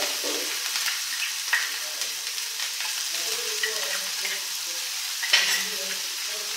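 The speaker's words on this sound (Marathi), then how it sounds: "एक साधारण मिनिटभर साधारण 40 ते 50 सेकंद हा छानपैकी असा फ्राय करून घ्यायचा ह्याच्यावरती." Green chilli thecha frying in oil in a pan, a continuous soft sizzle with occasional stirring scrapes at close range, no talking.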